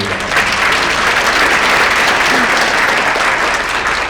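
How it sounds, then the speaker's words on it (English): A thick, even round of applause from the audience at a Crystal Apple award ceremony, loud and close, continuing unbroken for the full few seconds. "So let's just give them a round of applause for all that they do."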